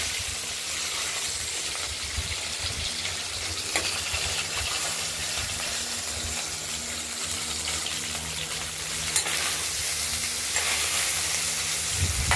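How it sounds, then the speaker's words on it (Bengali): Katla fish head frying in a pan, a steady sizzle of hot oil throughout with occasional stirring scrapes and a few sharper crackles, close and continuous. "মাছের মাথাটা ভেজে নিয়েছি আমরা, মোটামুটি ভাজা হয়ে গেছে।"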